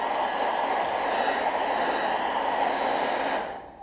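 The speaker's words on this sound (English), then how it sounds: "let's give it a tiny dry with the old hair dryer" A hair dryer blows steadily over a wet painting for a few seconds to take the gloss off the paint, a close, loud, even rush of air that cuts off abruptly at the end.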